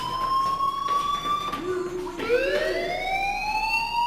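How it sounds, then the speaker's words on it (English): In the video game Life is Strange, a fire alarm sounds as a loud, sustained electronic tone that wavers and then sweeps upward in pitch, ringing continuously with no voices over it. "Hey, do you hear that fire alarm?"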